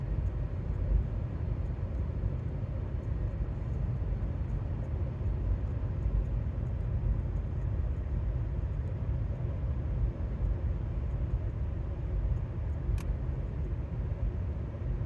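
A car drives at night with a steady low interior rumble of engine and road noise. A faint click near the end cuts through it, and nobody talks.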